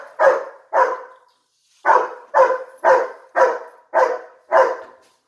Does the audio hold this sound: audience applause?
no